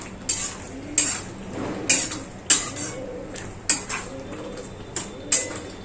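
Hot tamarind pulp boils and splutters in a pot for tamarind pulihora, with sharp bursts popping out about once a second, close and fairly loud, mixed with faint clinks of utensils and no talk.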